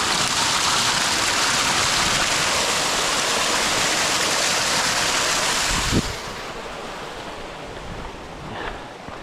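Water from a mountain stream beside a hiking trail rushes in a loud, dense, steady wash that fills the clip, then drops off suddenly partway through to a quieter, thinner flow.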